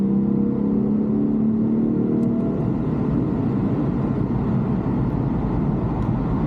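A Lexus IS F V8 engine revs loudly and close by, a rising whine holding steady before settling into a deep, rumbling drone.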